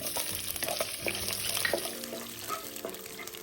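Garlic cloves dropped into caramelized rock sugar over low heat in a braised pork trotter recipe, giving a soft, steady sizzle and bubbling with faint clinks of stirring, close and quiet.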